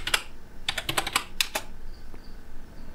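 Fingers type a search into the Chrome browser on a computer keyboard, making close, quick bursts of key clicks with short pauses between, then a few lighter taps, with no speech.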